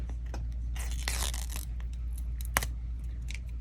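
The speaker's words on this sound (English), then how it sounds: "And then we have to take the paper off of this one." Paper backing being peeled off a DIY phone case, a steady crinkling and tearing rustle with a couple of louder rips, close up over a low constant hum, no talking.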